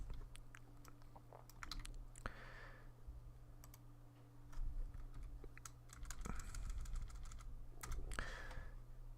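Rapid, uneven clicking of a computer keyboard being typed on while coding in Python during a live stream, with short bursts of keystrokes over a steady low hum and no talking.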